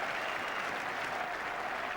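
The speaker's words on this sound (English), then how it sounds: "And plenty of applause." A packed cricket crowd at a 1983 England v Sri Lanka World Cup one-day match in Taunton applauds a shot, a steady, even wash of distant clapping.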